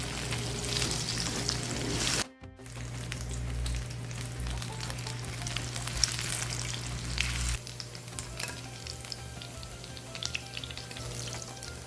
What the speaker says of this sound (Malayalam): ഇത് ഡീപ്പ് ഫ്രൈ ചെയ്യേണ്ട, ഷാലോ ഫ്രൈ ചെയ്താൽ മതി.